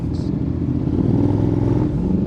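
Honda X-ADV750 motorcycle engine idling and warming up with a steady, close mid-low rumble and light revving throughout, a brief higher-pitched tone near the start, on a North Luzon touring ride.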